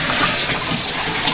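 Water gushing steadily into a washing machine drum, a dense continuous rush, close and fairly loud, alone with no talk.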